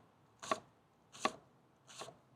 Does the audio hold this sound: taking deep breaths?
no